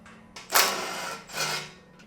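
A power tool, likely an impact wrench, removes the header bolts from a C6 Corvette on a hoist, giving two loud whirring bursts with a short pause between them and no talk.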